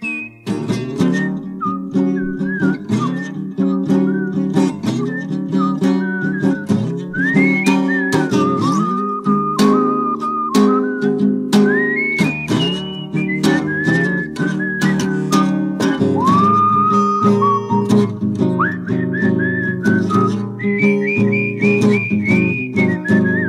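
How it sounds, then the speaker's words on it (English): Loud melodic human whistling carries the tune of a 1970 blues rock song, sliding between sustained notes over a steady band backing with a regular beat. "Down the street, just whistle my blues away."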